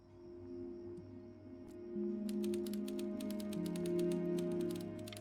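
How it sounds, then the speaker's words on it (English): A typewriter clatters in a room, with a quiet start and then a rapid run of crisp keystrokes against a steady low hum, close and fairly loud with no one speaking. "My mom had a similar typewriter to this."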